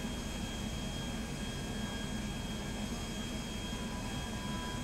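A steady, unbroken roar from a jet with one damaged engine in Grand Theft Auto 5, heard as a constant broadband whoosh with no pauses or voices.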